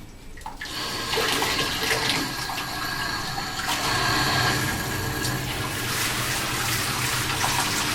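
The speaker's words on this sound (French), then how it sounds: "Je rince le tout." Water running and rinsing in a bathtub during a bathing session, a steady broadband wash of flowing water filling the whole stretch at moderate level, with no talk.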